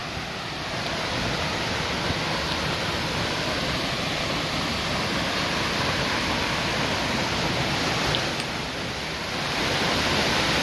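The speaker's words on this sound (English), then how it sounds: "You can hear the falls, so we know we're really close." Big Creek Cave Falls pours as a loud, continuous broadband rush of water, heard close and alone with no voices.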